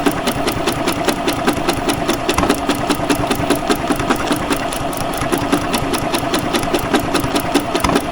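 A brand-new sewing machine stitches along thin fabric with a steady, rapid mechanical chatter of needle strokes, running continuously and close without any pauses.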